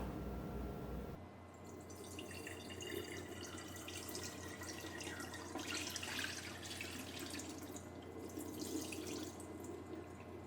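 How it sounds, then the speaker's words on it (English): Soft cheese is poured onto cloth lining a colander as whey trickles and drips through, a quiet continuous watery patter with a thin hiss, close by and without speech. "Very gently pour the cheese onto the cloth."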